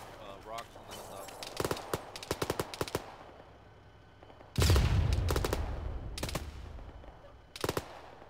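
Bursts of automatic gunfire crackle in a military video game, volleys coming from the rocks up top, with several short rapid strings followed by a louder, heavier burst and more scattered shots.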